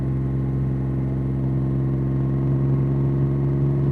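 A steady, deep Triumph Rocket 3 Storm motorcycle engine with a Werkes exhaust idles close by, a continuous low throaty drone with no voices.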